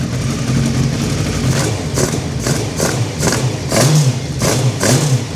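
A Hayabusa-engined Nissan Micra K11 runs on its first start without coolant, a loud, close, rough engine note with rhythmic throbbing pulses and blips throughout.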